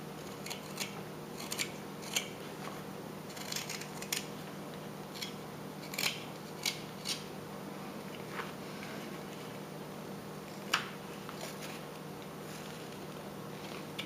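Knife carving a wooden hillbilly dog figure, rounding off its shape with small, quiet, intermittent cuts and scrapes at an uneven pace.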